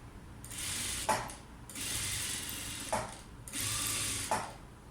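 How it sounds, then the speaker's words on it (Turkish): A sewing machine stitches a ruffled skirt in three long whirring runs, each ending in a short clunk, with brief pauses between; fairly quiet and close. "Düzelterek şöyle dikiyorum."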